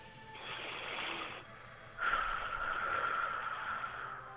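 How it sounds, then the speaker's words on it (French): A single deep breath taken during a guided meditation session, a soft airy inhale followed by a longer, louder exhale, close and alone with no talk. "Une respiration."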